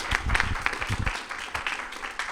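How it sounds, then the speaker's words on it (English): An audience gives a round of applause at the close of a talk on chair Pilates, a burst of dense clapping that is strongest at first, then thins and tapers off. "Let's give her a round of applause."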